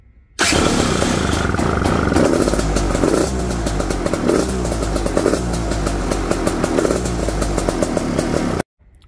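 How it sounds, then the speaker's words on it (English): A KTM motorcycle fitted with a 24-volt starter conversion cranks very briefly and fires at once, then runs loud and close with a steady, rough engine clatter until it cuts off abruptly. "we'll go up and hit the starter button. Let's see if we hear a difference in the cranking uh, speed"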